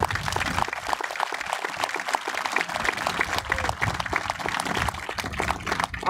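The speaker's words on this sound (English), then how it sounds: "Stand up, Reese. Give her a round of applause." A crowd at a West Virginia field grand opening ceremony applauds after a Star Spangled Banner rendition, sustained crisp clapping from many hands that stays loud and even throughout.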